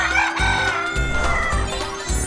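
A rooster crows loudly over a steady musical backing, its call stretched across the whole moment.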